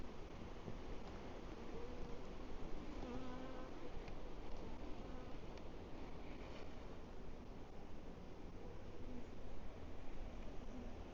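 Honey bees buzz in a beehive as a frame heavy with bees is lifted out, a soft, dense, continuous hum at a low, even level with no speech.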